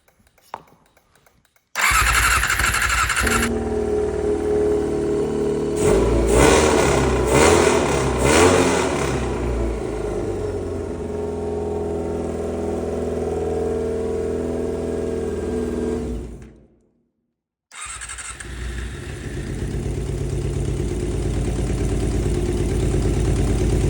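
A 1987 Honda CBR600F1 motorcycle engine cranks and fires, revs hard a few times, then settles into a loud steady idle, cuts out briefly and catches again, heard close by.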